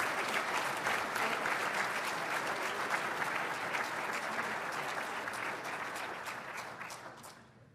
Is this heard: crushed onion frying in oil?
no